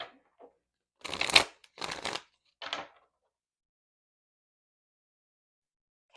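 Tarot cards shuffled close by in three quick riffling bursts, followed by several seconds of quiet.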